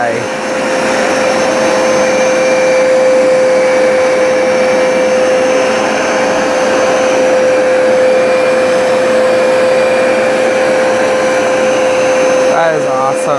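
Hoover SmartWash carpet cleaner running on carpet, a loud constant motor whine with a steady high tone, droning unbroken close by until a brief clatter near the end.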